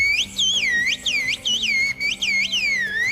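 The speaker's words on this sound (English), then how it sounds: "Whistled language." Whistled language: a person's loud, close whistles sweeping up and down in pitch in quick curved phrases, broken by short gaps, with no speech.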